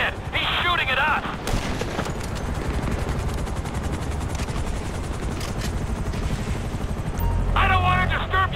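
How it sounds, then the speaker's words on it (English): Helicopters roar loudly in GTA 5 as sustained bursts of gunfire rattle through the attack, a dense continuous din with brief higher electronic tones at the start and end. "the choppers before we're blown out of the sky"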